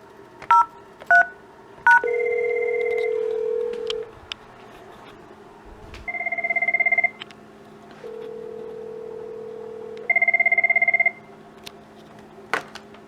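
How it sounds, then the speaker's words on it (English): A Cisco 7942G IP phone registered to FreePBX, with a quick series of DTMF keypad beeps as an extension is dialed, then alternating ringback tones in repeated bursts, fairly loud and with no talk. "let's dial the Cisco phone's extension, the 7900."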